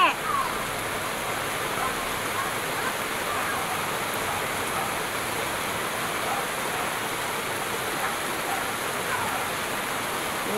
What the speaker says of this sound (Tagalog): Lakas ang ulan dito.